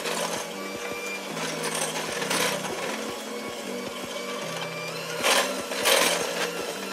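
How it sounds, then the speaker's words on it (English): A mixer beats butter and sugar together, its motor whirring steadily with pulsing changes in pitch and a few rattling knocks against the bowl, close and even. "We're going to mix it again for another 2 minutes together with the butter."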